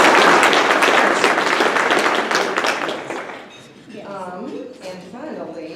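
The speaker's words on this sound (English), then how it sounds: "give her a round of applause" A room full of people breaks into applause honoring a woman's auction and gala success, dense steady clapping fading after about three seconds, then a few voices talking nearby.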